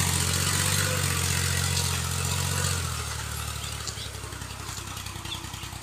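A Shahzada champion tractor's diesel engine runs steadily near a guava orchard, a loud low throbbing idle that drops in pitch and fades slightly about halfway through, with no voices.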